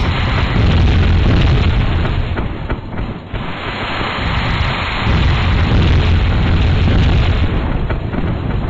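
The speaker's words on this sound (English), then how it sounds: "Do I hear an explosion?" Explosions rumble through the train combat game Rail of War, a loud, sustained booming roar that swells and surges for several seconds with deep, thunder-like bursts and no voices.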